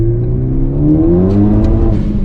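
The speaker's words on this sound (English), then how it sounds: "in first gear you still wheel hop like crazy" A car pulls hard in first gear with wheel hop after a COBB rear motor mount install, its engine rising in a steady, loud revving drone over about two seconds with a slight shudder midway.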